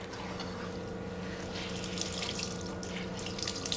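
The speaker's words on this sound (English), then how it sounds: "Extra water I'm going to put over in this pan." Water pours steadily into a cast iron Dutch oven, a continuous splashing, running-water sound up close with no talk.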